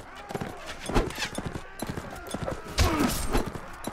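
Rapid clip-clop of a horse galloping in the medieval combat game Mount & Blade: Warband, close and fairly loud in uneven bursts, mixed with battle noise.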